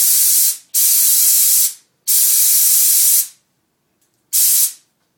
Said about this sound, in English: So I'm going to spray about 4 milliliters on this little ball.